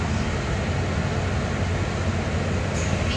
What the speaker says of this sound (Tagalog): tapos sasakay ako ng MRT